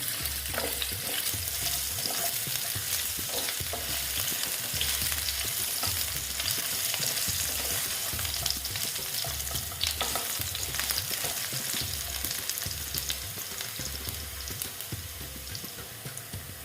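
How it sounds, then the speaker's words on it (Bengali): Potato pieces frying in oil in a pan for a village-style vegetarian bottle gourd dish, a dense continuous sizzle with occasional stirring scrapes, close and steady throughout, no talking. "আলুটা দেখো মোটামুটি ভাজা হয়ে গেছে"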